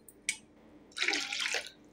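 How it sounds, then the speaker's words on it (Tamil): Water is poured into a vessel for a millet drink, a close splashing gurgle of about three-quarters of a second, preceded by faint clinks and with no talking. "ஒரு 3 கிளாஸ் தண்ணி இதில் ஆட் பண்ணுறேன்"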